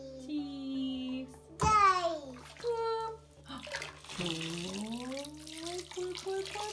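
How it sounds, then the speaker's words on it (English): Water poured and scooped in a bath or sink as an 18-month-old toddler plays, splashing trickles under bright child chatter and an adult voice speaking nearby. "Pour water."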